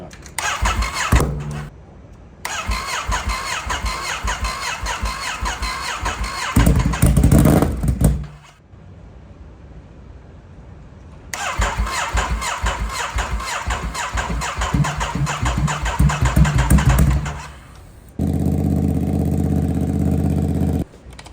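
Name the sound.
Ducati Monster 937 motorcycle engine starting and running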